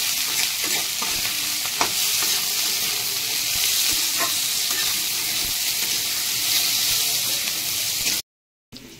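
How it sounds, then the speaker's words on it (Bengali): Potatoes and kohlrabi frying in a pan, a loud continuous sizzle with occasional stirring knocks that cuts off abruptly near the end. "এবার আমি আলু আর ওলকপি দিয়ে দিচ্ছি। এবার আমি এটা একটু কষে নেবো"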